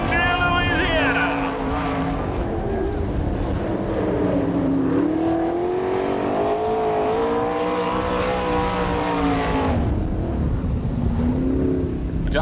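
Outlaw sprint car engine at an All Star Circuit of Champions dirt track in Woodstock, Georgia, roaring loudly and continuously, its pitch climbing and falling as the car laps, with a commentator talking over it.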